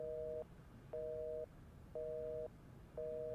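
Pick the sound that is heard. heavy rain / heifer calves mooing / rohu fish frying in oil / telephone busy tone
telephone busy tone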